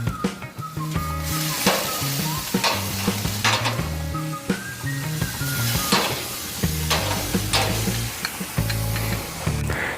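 Steaks sizzling on a Monument Grills Eminance 605 grill, a bright steady sizzle broken by repeated metallic scrapes and clinks of a turner close by.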